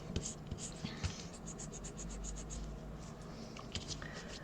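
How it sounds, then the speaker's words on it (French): A pencil eraser rubbing out pencil lines on paper, soft scratchy strokes repeated in a quick rhythm, close and fairly quiet, with a few faint bumps. "vous venez gommer tout ce que vous avez fait"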